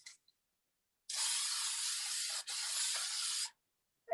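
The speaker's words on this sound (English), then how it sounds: "I'm going to give it another quick spray." Fixative spray hisses over a pastel painting on unsanded paper in two close, steady bursts of about a second and a half each, with a brief gap between and quiet before and after.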